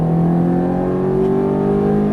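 A Ferrari F430 engine pulls hard under throttle on a track, a loud, close, continuous rising drone whose pitch climbs steadily as revs build, heard alone with no voices.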